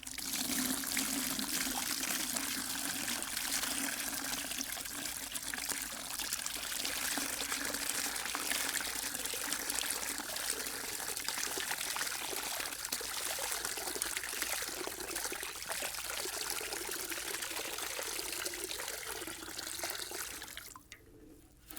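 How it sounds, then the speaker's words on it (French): Ten litres of water poured steadily from a watering can, a continuous close splashing stream lasting about twenty seconds before it tapers off, with no talking. "On va rajouter nos 10 litres d'eau."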